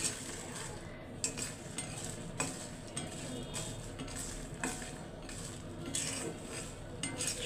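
Food frying in a pan while being stirred: a steady broadband sizzle with repeated metallic scrapes and clinks of a utensil against the pan, close and continuous.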